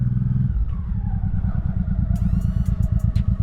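A 1986 Honda Shadow 700 cruiser motorcycle pulls away in first gear, its loud, close engine thumping in a steady low throb that rises in pace, with a few sharp ticks and clicks above it.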